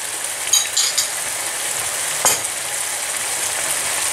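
A heaped spoonful of mixed tomato and pepper paste sizzles in a pan with browning ground meat for Turkish cabbage stew. Steady close frying hiss with a few sharp crackles and pops, no talking.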